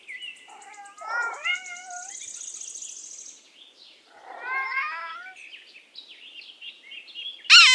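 A cat meows in two clear, drawn-out calls with a pause between them, close and fairly loud, while faint bird chirps sit behind and a brief sharp click lands at the very end.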